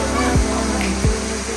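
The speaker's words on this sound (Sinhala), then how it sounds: "මෙතනින් වතුර ඇඟට වැටෙද්දි ඇඟ රිදෙනවා. ඒ තරමට වේගෙන් හයියෙන් තමයි වතුර එන්නේ." Strong waterfall pouring down hard enough to sting the body, a broad steady rush of falling water close by, with a couple of brief low thumps.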